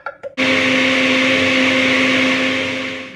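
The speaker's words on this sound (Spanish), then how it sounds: "Ponemos un poco de leche y lo vamos a licuar" A blender whirs strawberries with milk, starting abruptly after a few brief clicks and then holding a loud, steady motor whine to the end.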